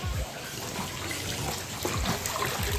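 Water poured over a toy photography scene outdoors in the rain to make droplets, a steady trickling splash with a few heavier spatters, fairly close and continuous.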